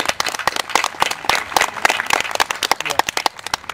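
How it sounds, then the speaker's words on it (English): A crowd applauds at an outdoor gathering, with many hands clapping densely and steadily at close range for the whole stretch and no one speaking over it. "Yeah, round of applause."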